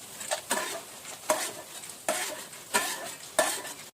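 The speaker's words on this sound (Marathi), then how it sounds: "डाळ छान तळून घ्यायचे" Lentils (dal) frying in hot oil in a pan, with repeated stirring scrapes roughly every half second to second over a continuous sizzle, close and clear, with no voices.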